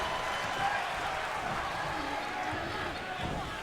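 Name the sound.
crowd cheering in WWE 2K22 video game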